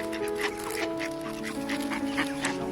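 Ducks quacking in a snowy park in Sweden while being fed biscuits, a busy cluster of repeated close quacks over a steady background hum.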